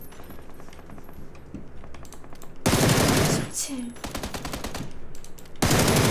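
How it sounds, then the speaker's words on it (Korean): Rapid bursts of automatic gunfire on a video game training range, loud clattering volleys alternating with quieter stretches of shots, with someone speaking softly before the firing begins. "그 총소리도 많이, 많이 구분해서 너무 좋은데 이거 잘 만들었다"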